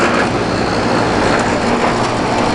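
An air conditioner compressor runs with a loud, dense rattle and steady broadband roar, close and continuous without pause or voices.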